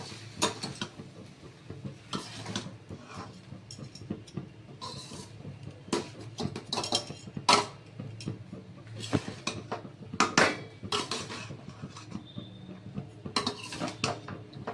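A spoon stirs homemade fried rice with rose water in a pan, giving repeated close metallic scrapes and clinks against the cookware at an irregular pace, with quiet gaps between strokes and no talking.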